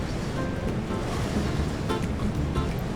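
Choppy water slaps against a boat crossing open, exposed stretches between Patagonian fjords while gusty wind buffets the microphone, making a steady, loud rush throughout with no talking.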